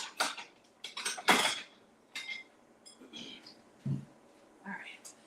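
Plates and cutlery clattering in a home kitchen, several loud close clinks and knocks in separate bursts, with faint breathy voice sounds in between.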